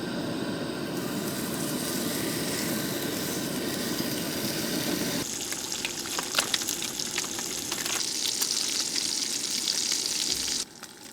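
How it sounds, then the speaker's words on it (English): Eggs and bacon fry in a pan on a camping van stove: a dense, steady sizzle and crackle that shifts midway to a brighter, spattering fry, then cuts off abruptly near the end. "This morning we got eggs and bacon."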